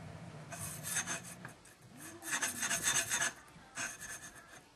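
Light-grit pre-polish sanding, a close, soft rasping rub in several short bursts with quiet gaps between them.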